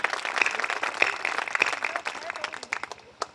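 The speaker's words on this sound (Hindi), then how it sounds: "एक बार तालियां बजा के इजाजत दीजिएगा।" Audience clapping at a ghazal and poetry gathering, a dense run of claps for about three seconds before thinning out near the end, with a voice faintly mixed in.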